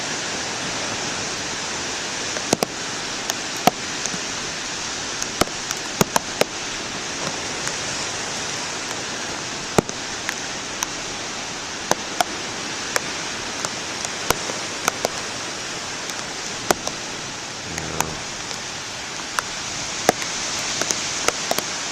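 Steady rain falls in a continuous hiss, with scattered sharp drips and taps landing nearby throughout; no voices.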